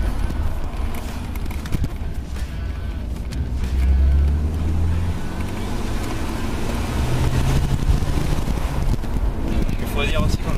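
Straight-six engine of a rear-wheel-drive BMW 330 E46 pulling under acceleration on a road, a steady loud drone beneath wind rush and cabin noise, with occupants talking over it.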